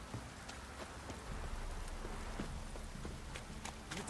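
Rain falls steadily in The Witcher 3 video game, a soft continuous patter with scattered drop ticks and faint hoof clops underneath.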